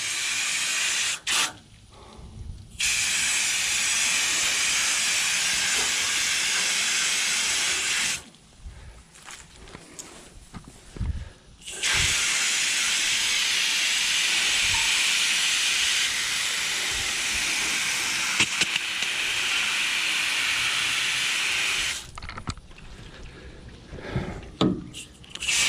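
A steady hissing water spray rinses the coils of an AC unit, running loud and continuous in long stretches broken by a few short pauses, with faint clicks in between.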